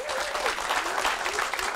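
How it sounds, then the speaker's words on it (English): A short burst of audience applause after a park donation announcement at a regional government event, dense clapping with a faint tonal voice or whistle weaving through it. "Let's give that a round of applause."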